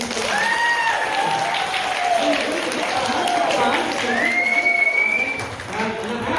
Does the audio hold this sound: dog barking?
no